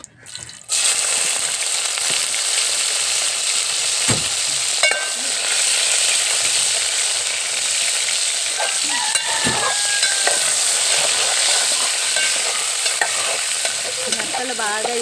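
Food fries in a few spoons of oil in a pan with a loud, continuous close sizzle, broken by occasional scraping and clinks of a spoon stirring throughout.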